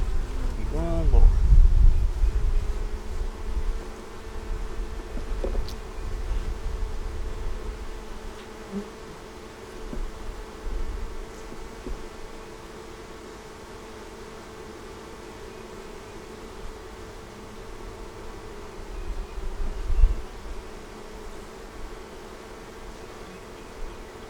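Honey bees buzz around a hive frame in a steady, dense drone close by, with a few low handling thumps near the start and again later.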